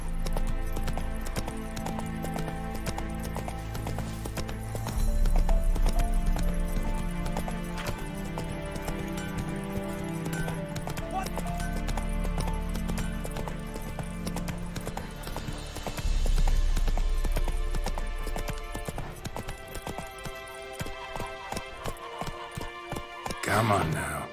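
A horse gallops in The Witcher 3 video game, its rhythmic clip-clop hoofbeats running steadily under game music, with brief louder surges.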